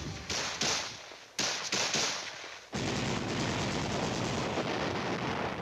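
Infantry weapons fire during a military field training exercise: several sharp bursts in the first few seconds, then a dense, continuous roll of rapid gunfire, loud and sustained to the end.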